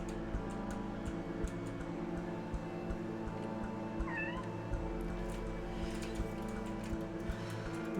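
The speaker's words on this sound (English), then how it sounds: "Cat is just squeaking at me." A pet cat meows and squeaks at close range indoors, a couple of short rising calls over a steady hum and light ticking in the room.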